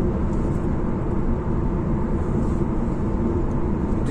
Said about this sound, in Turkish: Rüzgar sesi, yol sesi. Yol sesi biraz geliyor.